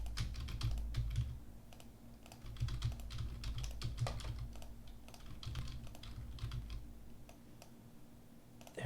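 Fingers type on a computer keyboard at a desk during web coding work, producing a close, quiet, steady patter of key clicks with small pauses over a low background hum, no voices.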